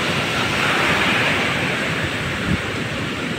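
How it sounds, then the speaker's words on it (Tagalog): Large sea waves wash over a beach at Bukana and push up toward a cottage. The surf makes a continuous, loud, broadband rush with no clear breaks and no voices. "Ganyan kalaki yung alon ngayon."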